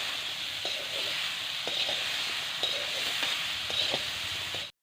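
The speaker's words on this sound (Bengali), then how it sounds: "সামান্য হলুদ আর লবণ দিয়ে আলুটাকে ভেজে ফেলাম।" Potato pieces seasoned with turmeric and salt fry in a pan with a steady, close sizzle, punctuated by occasional soft stirring taps, before the sound cuts off abruptly.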